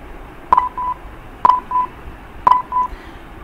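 Simulated transistor switching circuit output in Multisim: three evenly spaced bursts, each a sharp click followed by short tonal beeps, loud and clean against near silence.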